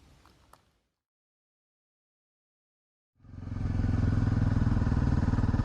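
A Honda CRF300 Rally motorcycle pulls away after a brief lull, its engine rising into a loud, steady, close-up drone that holds to the end without talk.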